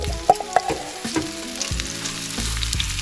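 Hot, smoking oil sizzles and crackles steadily in a pan as a pancake shallow-fries, with a few soft pops and clinks near the start, close by and without speech.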